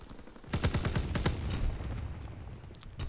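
A rapid burst of automatic gunfire in a shooter video game, roughly half a dozen sharp close cracks in quick succession, followed by a lingering rumbling echo and a few faint distant pops, with no talking.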